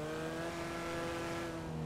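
A motorcycle engine in the video game GTA V holds a steady, buzzing, even-pitched drone at moderate volume with no voices over it.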